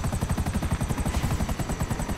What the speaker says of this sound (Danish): Jo, der er en helikopter.